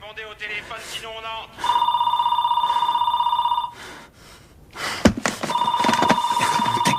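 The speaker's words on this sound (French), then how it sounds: "Répondez au téléphone" A telephone rings in two long electronic bursts, loud and close, with brief voices and a sharp thump between the rings.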